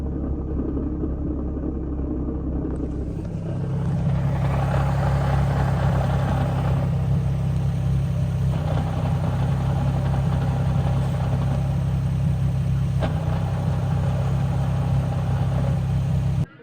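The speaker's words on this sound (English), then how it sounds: "but that is the flywheel chatter now" A Nissan 350Z with flywheel chatter rumbles at a steady idle close by, a low continuous engine drone that jumps louder a few seconds in and then holds evenly until it cuts off abruptly.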